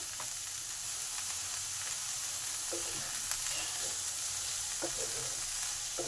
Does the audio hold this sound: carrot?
yes